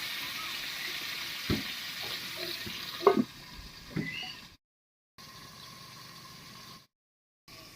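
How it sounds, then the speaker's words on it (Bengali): Pointed gourd and potato pieces frying in oil in a pan, a steady soft sizzle with a few clinks and stirring knocks, then brief gaps as the pan is covered. "তেলের উপরে পটল আর আলুটা দিয়ে একটু নাড়িয়ে নিয়েছি এবার ঢাকা দিয়ে দিয়ে ভেজে নেব"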